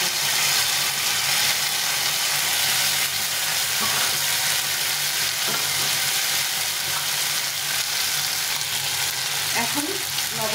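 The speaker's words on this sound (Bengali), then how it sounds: "এখন এই মশলাটা দিয়ে দিব, আদা জিরে লঙ্কা রেখেছিলাম" A ginger, cumin and chilli masala paste frying in a pan with tomatoes gives a loud, steady, close sizzle and hiss, with occasional scrapes of stirring.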